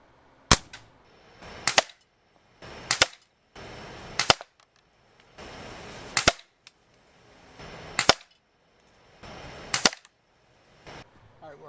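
Crosman 760 and Umarex APX pump air guns firing in a backyard, six sharp cracking shots spaced a couple of seconds apart, each with clicking and pumping noises between, loud and close.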